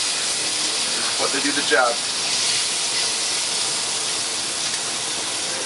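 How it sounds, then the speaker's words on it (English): A steak dropped into a hot pan gives a steady broadband sizzle throughout, with a brief louder burst near the start and someone talking over it. "So we're going to go ahead and throw our steak in the pan."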